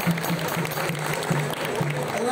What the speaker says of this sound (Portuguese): uma salva de palmas aos familiares que vieram assistir aqui